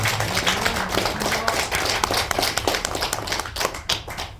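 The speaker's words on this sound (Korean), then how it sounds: "여러분 박수 한번 주시면 고맙겠습니다." Audience clapping at a Korean political gathering, a dense round of hand claps sustained for the whole stretch, fairly close and loud, rising and thinning toward the end.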